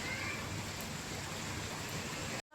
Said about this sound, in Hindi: इस बारिश ने तो और परेशान कर रखा है।